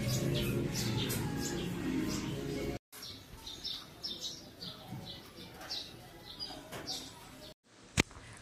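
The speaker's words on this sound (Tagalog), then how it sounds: "Gustong-gusto ko talagang makinig diyan sa mga tweet-tweet ng ibon." Small birds chirp and tweet in short bursts, moderately close, over a soft outdoor background, with a brief sharp click near the end.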